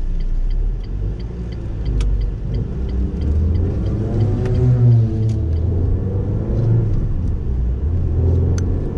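A Renault Clio 3 RS engine on a test drive gives a steady, loud interior drone with a rising and falling rev sweep in the middle, and faint ticking in the background.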